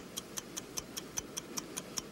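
Steady clock ticking, about ten evenly spaced sharp ticks roughly every fifth of a second, close and clear against a quiet background with no talk.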